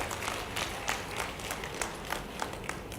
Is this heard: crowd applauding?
yes